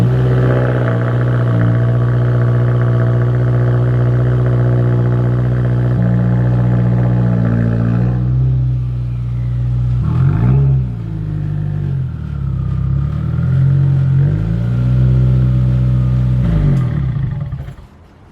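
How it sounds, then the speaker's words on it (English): A 2020 Subaru WRX with a Faction Fab muffler delete exhaust idling loud and rumbly on a cold start, then blipped through a couple of revs that rise and fall before it drops off at the end. "So this is pretty much a last cold start with this exhaust right here."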